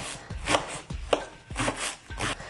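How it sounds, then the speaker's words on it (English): A knife chops vegetables and minces garlic on a cutting board, striking in quick rhythmic bursts of sharp, close taps with brief pauses between runs. "you're also going to need to mince a clove of garlic"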